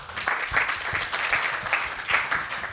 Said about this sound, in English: Give yourselves a round of applause, please.